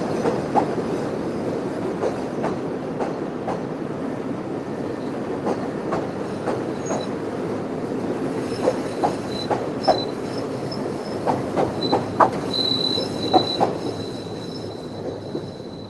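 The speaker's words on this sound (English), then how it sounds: "It's always interesting to see the train moving around and all the noises that it makes in the area." A train rolls overhead on an elevated track in a Chicago city street, its wheels clacking and squealing in a steady stream of rhythmic clicks over a loud continuous rumble.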